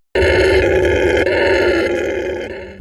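A howler monkey's loud, deep, rasping howl roars out in one sustained call, close and powerful, then tapers off at the end.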